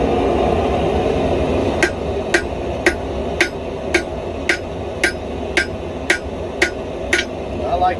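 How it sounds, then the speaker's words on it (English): A hammer forging hot steel to draw down the tang of a hand-made kitchen knife: ten sharp, evenly spaced ringing blows about every half second, close and clear over a constant background hiss. "The tang is really important to get down to size by hammer"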